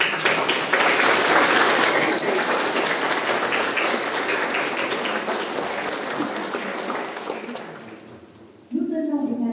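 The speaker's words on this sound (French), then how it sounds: "nous pouvons applaudir tout ensemble" A church congregation at a Catholic Mass breaks into loud, sustained applause, a dense wash of clapping that fades over several seconds before a voice speaks at the end.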